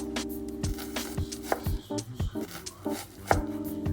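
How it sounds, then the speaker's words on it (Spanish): A knife finely chops a medium onion on a cutting board, giving a steady run of close, sharp knocks at an even rhythm with a few short pauses. "vamos a picar finamente una cebolla mediana cortada bien chiquitita"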